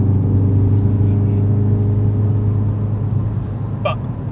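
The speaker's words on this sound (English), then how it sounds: "they call it Pop Pop Bang, because that's what you hear it doing when you get it revved right up" A performance classic car at a motoring festival idles loudly nearby with a deep rumbling engine note, followed by a single sharp crack like an exhaust pop near the end; no voices are heard.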